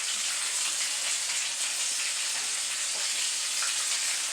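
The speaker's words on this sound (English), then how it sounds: "I don't like this grease to get out of control because, you know, it is a popping a little bit" Chimichangas deep-frying in hot grease, a steady close sizzle with scattered small pops and crackles, alone with no talk.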